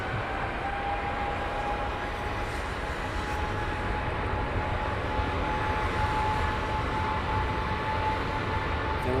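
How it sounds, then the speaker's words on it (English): A Delta airliner taxis at London Heathrow Airport, a steady broadband engine roar with a faint whine held throughout, continuous and moderately distant, with no voices. "Oh, and the Delta taxiing down the pink ribbon."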